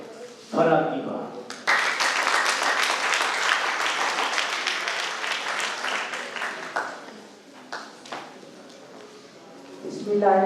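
Loud, dense applause from an audience at an evening event of the Nazariya Pakistan trust, welcoming a speaker to the stage. It lasts several seconds, then thins out into scattered claps, with brief talking at the start and end.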